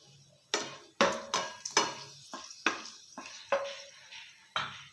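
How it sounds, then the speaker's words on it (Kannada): Whole spices, cinnamon, cloves and cardamom, are tossed in a hot pan for a cashew nut masala curry, with a string of sharp scraping and stirring strokes over a faint background sizzle, close and clear. "ಚಕ್ಕೆ ಲವಂಗ ಏಲಕ್ಕಿ ಹಾಕ್ಕೊಳ್ಳೋಣ ಚೆನ್ನಾಗಿ ಕರ್ಕೊಳ್ಳೋಣ"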